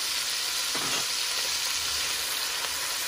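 Cumin seeds and turmeric sizzle in hot oil as a steady, bright hiss, with a couple of light stirring scrapes and no one talking.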